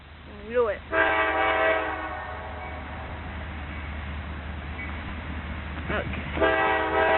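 Two loud blasts from a Union Pacific rock train's horn at Springfield, Illinois, one near the start and another near the end, with steady train rumble between and brief voices early on.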